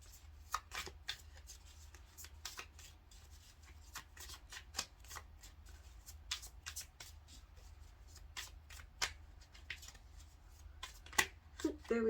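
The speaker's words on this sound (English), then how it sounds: "That was taking a really long time to shuffle." A deck of tarot cards being shuffled, with repeated crisp riffles and flicks in uneven bursts over a quiet room background.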